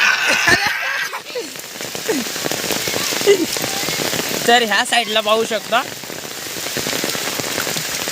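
The first monsoon rain pours steadily on surfaces around a Konkan village, a dense, loud hiss with patter throughout, while someone talks over it.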